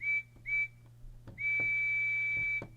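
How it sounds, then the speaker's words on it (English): A Bachmann G scale DCC model of Percy the small engine sounds its whistle: two short toots, a pause, then one long steady whistle, clear over a faint electrical hum. "So now we should have him back to sounding like Percy's whistle."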